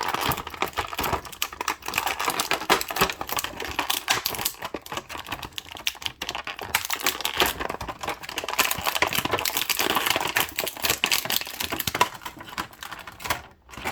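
Plastic blister packaging from a boxed Becky Lynch wrestling figure crinkles and crackles as it is handled and pulled during unboxing, a dense run of close, irregular snaps and rustles with no talking.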